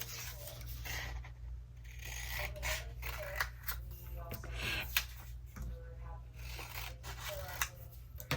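Scissors cut through paper or card stock at a crafting table, giving a few short snipping and rustling strokes over a steady low background hum.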